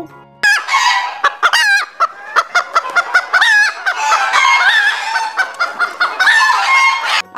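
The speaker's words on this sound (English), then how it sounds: "H for hen" A hen clucks and squawks in a rapid, busy series of short calls, loud and close, with almost no gaps.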